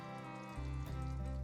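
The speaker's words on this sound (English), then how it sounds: "That is what you want to see when you put your tomato into the oil, okay? A little bit of bubbling" Breaded green tomato dropped into hot oil in a pan, a steady close sizzle and bubbling that swells as the slice goes in and keeps fizzing alone.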